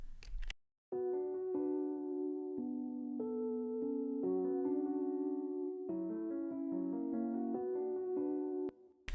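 Smooth, legato electric piano melody playing over sustained, arpeggiated keyboard chords, clean and mellow, with a brief pause near the start and a soft thump at the end.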